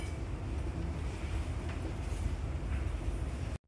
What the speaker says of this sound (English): Here is a few shots at Dandenong Station with the upgraded Siemens set.